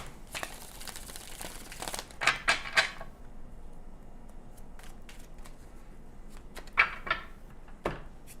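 Tarot cards being shuffled by hand close up, bursts of riffling and crisp card flutters at irregular intervals, with quieter handling between them and no talking.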